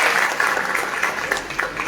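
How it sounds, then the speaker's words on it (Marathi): Audience applause for a young performer at a Marathi stage music show, a steady dense wash of clapping that runs close and fairly loud for the whole stretch, with no voices over it. "पुन्हा एकदा दिव्येशसाठी जोरदार टाळ्या होऊन जातो."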